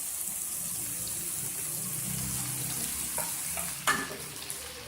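Chicken, tomato and cabbage stir-fry in a pan with a continuous, even hiss of frying and one sharper clatter near the end.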